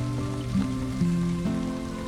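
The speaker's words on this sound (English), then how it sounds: "Getting caught in the rain is a good excuse to pop inside, dry off, and spend some coin." Rain falls in the survival video game Valheim, a steady, soft hiss of patter that continues throughout beneath sustained tonal music.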